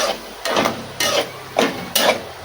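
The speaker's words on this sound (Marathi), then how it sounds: "आता हा मसाला पण आपल्याला परतवून घ्यायचा आहे." Masala is stirred in a pan for kolim rice, a leftover-rice dish with salted dried kolim shrimp. Four loud, close scraping sweeps come about every half second over a faint sizzle.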